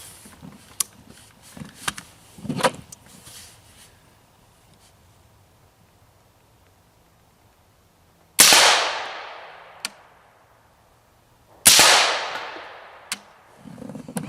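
A rifle fires M855 rounds at a body armor plate about 35 yards away, two loud sharp cracks a few seconds apart, each with a long ringing decay. Fainter clicks and handling noises come before them.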